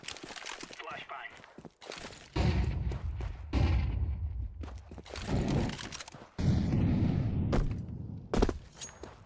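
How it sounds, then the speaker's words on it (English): Flashbang grenade going off in Counter-Strike, with sharp loud bursts and rumbling blasts in a few clusters amid game footsteps and other effects, while players talk. "Flashbang."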